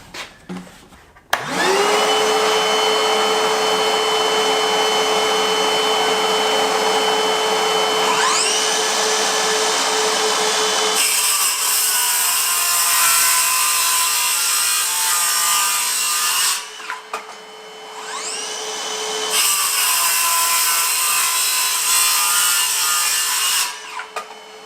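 A Greenworks 24V brushless circular saw spins up and runs with a steady high whine, then cuts and revs through two bursts of harsher, louder sawing before winding down, with no talking.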